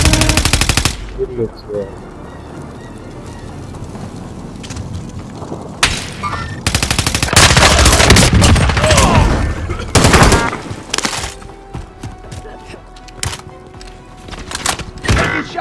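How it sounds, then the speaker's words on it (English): Rapid bursts of automatic gunfire in a military shooter video game, loud and close, with heavy booms and thuds between volleys and brief talk over the action. "Receiving hostile fire"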